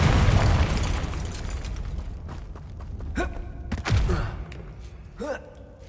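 A Confringo spell explodes in a video game: a loud blast opening with a heavy low rumble that gradually decays, then several sharper bursts and whooshing effects follow nearby.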